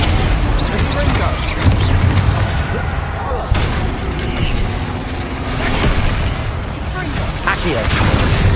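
Confringo blasting-curse explosions in Hogwarts Legacy come as dense continuous booms and crackling blasts layered over combat noise, loud and sustained, with a voice speaking over them.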